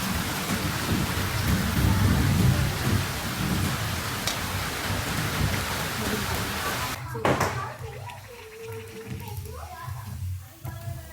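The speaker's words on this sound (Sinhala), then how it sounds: "මේ දවස් ටිකේ නම් හැමදාම හවසට තමයි වහින්නේ" Evening rain falls in a loud, steady wash for about seven seconds, then drops away to a quieter background with a few faint sounds like voices.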